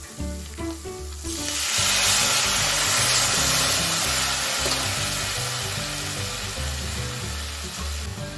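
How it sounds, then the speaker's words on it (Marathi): Spices for dal tempering hit hot oil with a sudden loud sizzle. It holds as a strong, steady hiss that eases slightly toward the end, heard close up. "आता आपण लगेच फोडणी देऊन घेऊया"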